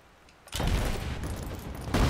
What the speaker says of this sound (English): Explosion arrows.